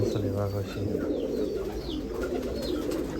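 An old line of Gauran pigeons coos in repeated low, throaty phrases close by, with faint voices murmuring in the background.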